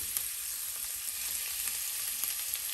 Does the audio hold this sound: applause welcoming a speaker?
no